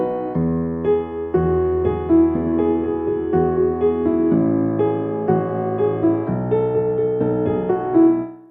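A slow piano melody plays alone, single notes over sustained chords, steady and moderately loud with no voices.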